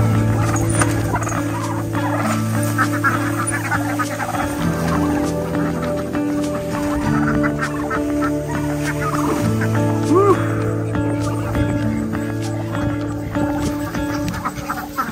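A flock of turkeys gobbles repeatedly and loudly close by, overlapping calls layered into a continuous outdoor chorus.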